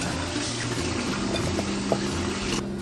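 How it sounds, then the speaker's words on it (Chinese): Cold tap water runs steadily over chicken feet in a kitchen, a continuous close splashing rush that cuts off abruptly near the end, with no talking. "最好是用冷水多冲洗一下"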